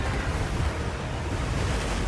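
A steady rush of surf and wind fills a fishing video game as water waves wash over the player, continuous and broadband with no pauses and no speech.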